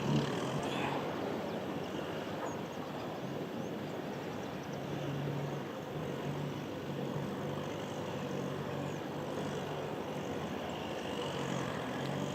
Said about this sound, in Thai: ฟังเสียง สภาพแวดล้อม ต่างๆครับ เสียงรถดำเสียงรถแท็กเตอร์